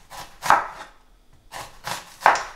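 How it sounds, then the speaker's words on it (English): A knife chops an onion into fine half circles on a board in a kitchen, giving close, crisp strokes in two quick clusters separated by a short pause. "So I'm just finely chopping the onion into sort of half circles."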